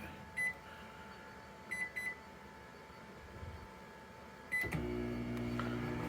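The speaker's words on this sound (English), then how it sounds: "start the microwave real quick" A microwave oven on a portable power station beeps a few times at keypress, then starts with a low steady hum that carries on to the end.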